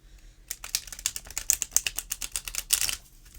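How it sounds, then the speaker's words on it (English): A quick run of crisp clicking snaps from stiff new tarot cards being riffle shuffled close up, about two and a half seconds of rapid rattling. "you can do a riffle shuffle with them"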